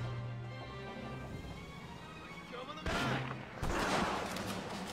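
Gunfire bursts in the World War II shooter Medal of Honor: Rising Sun, loud crackling volleys arriving in two dense clusters over steady game ambience, the later shots louder and closer.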